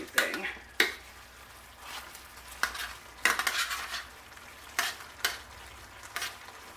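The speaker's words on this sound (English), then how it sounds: "I leave it on the stove for another couple of minutes just to make sure that the honey and everything gets nice and melted" Chicken and asparagus cooking on a stovetop with honey, butter and balsamic marinade: a soft, low sizzle broken by sharp, intermittent clinks and scrapes of a utensil stirring in the pan, spaced a second or so apart.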